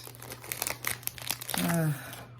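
A planner sticker sheet is handled with quick, close crinkles and crackles, and a person speaks briefly over the rustling.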